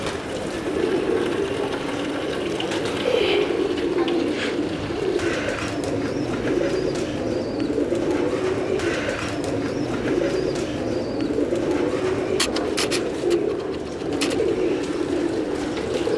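Pigeons cooing steadily at close range, soft repeated throaty coos layered over a constant ambient hiss, with a few sharp clicks near the end.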